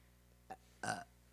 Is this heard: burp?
yes